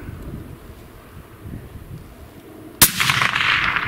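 A single sharp rifle gunshot cracks out during an early-season mule deer hunt on the Kaibab, a loud broadband blast near the end followed by a lingering rumble over steady wind noise.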